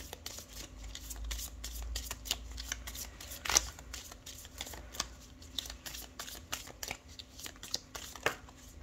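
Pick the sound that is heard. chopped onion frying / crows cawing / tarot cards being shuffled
tarot cards being shuffled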